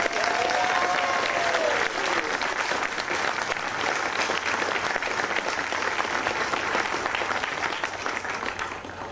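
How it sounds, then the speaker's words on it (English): Audience at a World AIDS Day candlelight vigil applauding HIV service providers, sustained dense clapping from a crowd for about nine seconds. "each of which deserve your applause right now because they do great,"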